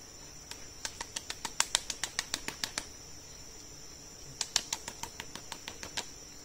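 Scaptotrigona stingless bees get knocked into a wooden hive box, heard as a fast run of sharp, evenly spaced taps, then a pause and a second burst of knocks over a faint buzzing background.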